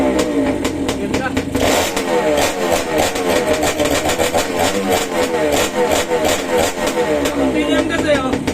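Motorcycle being restored, its engine kicked into life and settling into a loud, close, steady idle with rapid rhythmic popping, while people talk over it.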